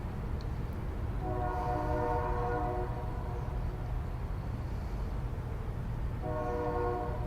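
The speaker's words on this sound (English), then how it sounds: "But it's a busy train night, and I like that." A passing train sounds its horn on a busy night, long sustained horn blasts over a constant low rumble, heard at a distance with a second blast near the end.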